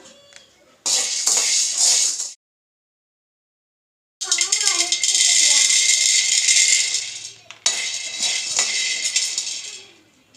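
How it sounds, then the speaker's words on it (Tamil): Dry grains rattle and scrape in a pan while being roasted for sathu maavu, loud bursts of gritty stirring broken by a silent pause, with a voice speaking over part of it. "இப்போ ஒவ்வொன்றையும் நல்லா வறுத்து எடுத்துக்கலாம்"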